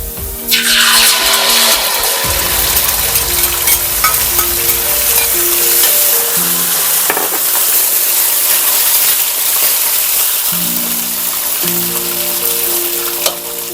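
Canned fish dropped into a hot pan with browned garlic bursts into a loud, close sizzle that settles into steady crackling frying, with stirring noises and background music.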